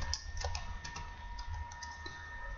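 Fast steady typing on a computer keyboard while HTML image and div tags are entered, with crisp close clicks running without a break over a low hum.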